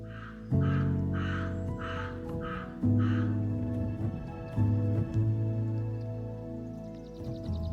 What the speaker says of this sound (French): Le corbeau est un survivant opportuniste.